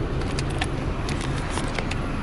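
Street traffic during the Dinagyang festival in Iloilo forms a steady, close wash of engine noise and road rumble, with scattered crackles and faint clatter on top, continuous with no pauses.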